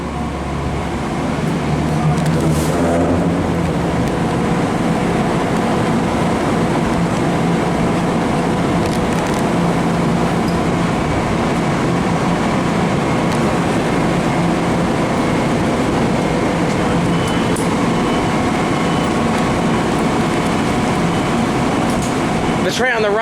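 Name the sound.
trains racing to Penn Station, New York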